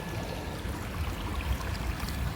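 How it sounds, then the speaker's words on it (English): Continuous broadband rushing of water from a river flowing close by, steady and fairly soft, with no voices. "And indeed we are next to the river."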